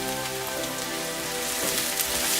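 Onion sauteing in a hot pan while cooking cutlets, a steady close sizzle like light rain that continues throughout with a faint hum underneath.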